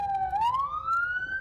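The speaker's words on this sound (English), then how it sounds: "Police sirens have become the unofficial soundtrack of an all-out war for the streets." A wailing police siren in El Salvador rises steadily in pitch, loud and fairly close, with faint traffic rumble underneath.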